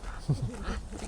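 A puppy gives a short, soft whimpering whine close by for about a second, faint against a low background rumble.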